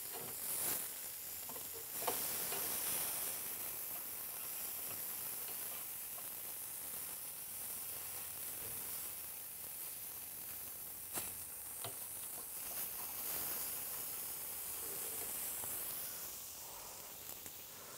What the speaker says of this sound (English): we're actually generating smoke by dropping that fat onto the coals